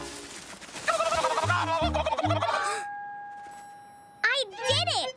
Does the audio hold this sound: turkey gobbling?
yes